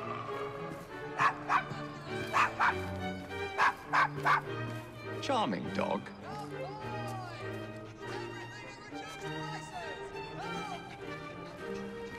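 A dog in Assassin's Creed Syndicate, set in Victorian London, gives several sharp, close barks in quick bursts over the first few seconds, then softer yips and whimpers, set against background music and voices talking.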